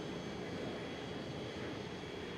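A Bulgarian Embraer E190 jet takes off from runway 18 left, a steady, broad engine roar that holds level throughout with no voices over it.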